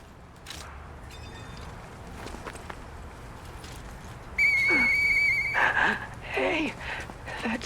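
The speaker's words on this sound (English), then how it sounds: "Hey, that sound. Is that you, Murphy? I know that whistle." Murphy whistles in the video game Lies of P, a high steady whistle held for about a second, then a shorter, wavering second whistle, loud and close. Footsteps and faint ambient noise come before it.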